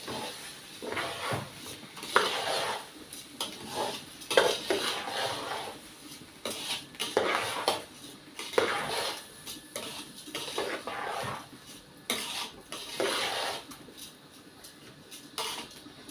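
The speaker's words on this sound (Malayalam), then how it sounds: "ഇനി നമുക്കിതൊന്ന് മിക്സാക്കി കൊടുക്കാം വറുത്ത് ചോറ് വെക്കുമ്പോൾ" A utensil scrapes and stirs through rice being roasted in a pan for ghee rice in repeated bursts, with soft rattling and no voices.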